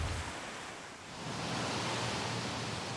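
Ocean surrounding a Pacific island coast makes a broad, steady wash of surf noise, fairly quiet and continuous, dipping briefly before swelling back to an even roar.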